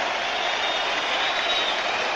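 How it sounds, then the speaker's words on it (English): A rugby stadium crowd at a 1999 match roars and applauds after a try, a dense, steady wall of cheering and clapping that fills the space without a break. "The crowd is going berserk."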